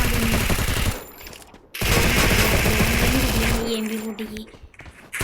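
MP40 submachine gun fire in Free Fire gameplay, loud sustained rapid bursts with a short gap between them, heard alongside game sounds and voices.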